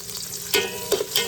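Garlic and onion sizzling in oil in a pan, a steady close frying hiss with a few louder stirring bursts as the pieces are moved around.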